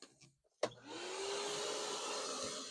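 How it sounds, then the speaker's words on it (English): A vacuum cleaner sucks up a swept pile of junk from the floor, starting with a sharp click and then settling into a steady, loud whooshing roar with a rising whine from the hose end. "the noise coming out of the end of the hose is louder than the motor."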